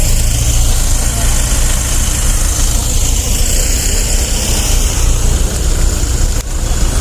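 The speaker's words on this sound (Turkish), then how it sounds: "Arabalı feribot." A car ferry's engine idles at Kabatepe pier before the crossing to Gökçeada, a loud, steady low rumble with constant vibration filling the whole stretch without pause.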